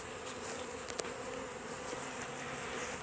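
Honey bees buzzing around a hive: a dense, steady drone of many bees close by, with individual bees flying past the microphone; no speech.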